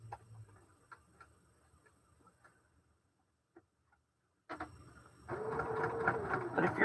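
Sewing machine stitching the last seam of a quilt block: faint ticking at first, a brief quiet, then the machine starts and runs in a steady, close, loud whirring stitch to the end.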